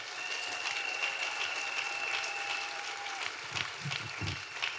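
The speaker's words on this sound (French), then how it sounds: "Clap for yourself." Applause from a church congregation at a French-English sermon, a steady wash of clapping held at even loudness throughout, with a few low thumps near the end.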